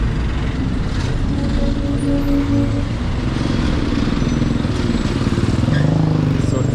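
Busy street traffic in Nairobi, with cars, buses and motorbikes rumbling past in a constant loud wash of engine noise, a brief brake hiss and faint voices in the crowd.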